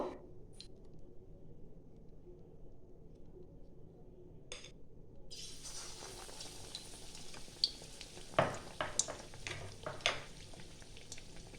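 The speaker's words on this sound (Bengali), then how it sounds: "আরও একটা ভেজে নেব" An aloo chop, a potato croquette, frying in hot oil, starting as a faint quiet hiss and then swelling into a steady close sizzle with occasional sharp pops and crackles near the end.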